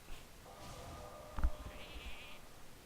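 A sheep bleats in the Hearthstone card game, a short wavering cry followed by a brief game sound effect and a higher bleat, all faint and with no talking.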